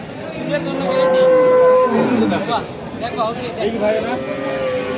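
Cows and calves moo at a busy village cattle market, with long, loud lowing calls over a steady crowd murmur and people talking nearby.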